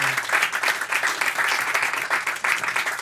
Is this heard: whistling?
no